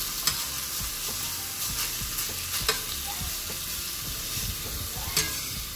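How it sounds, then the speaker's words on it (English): Seasoned beef is stirred in a pot, a steady scraping and shuffling with soft sizzling underneath and a few sharp clicks of the spoon against the pot, close and continuous with no talk. "So I'm trying to mix in my seasoning with the beef, so it's evenly mixed."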